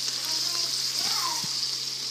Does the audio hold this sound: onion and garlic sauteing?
yes